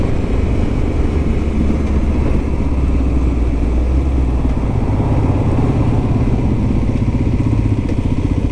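Modified Kawasaki KLX300SM motorcycle with a snorkel intake mod, its single-cylinder engine running in a steady loud rumbling idle close by, continuous throughout.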